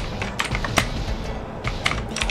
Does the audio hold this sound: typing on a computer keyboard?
yes